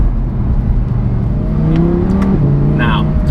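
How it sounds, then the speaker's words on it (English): A big V10 in an Audi R8 V10 Plus revs steadily under continuous close engine noise, with a rising harmonic tone near the end and some talk faintly in the background. "there is a big grizzly V10 in this thing, so it is hard to escape the fact that it sounds great."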